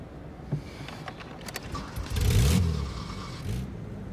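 A car pulls away, its engine rising in a short revving swell about halfway through before fading, with faint clicks and knocks around it and no talk.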